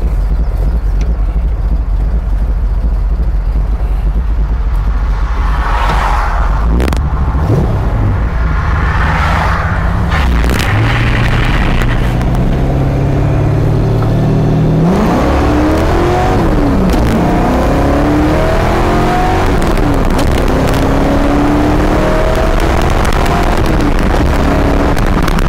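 A car fitted with 4.10 gears accelerates hard, a loud engine roar that rises and falls in pitch through several gear changes, with heavy wind rumble and no voices.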